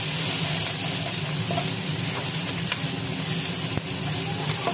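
Bay leaves, whole garam masala and ginger fry in hot oil while being stirred, making a close, continuous crackling sizzle with faint occasional scrapes of a spoon.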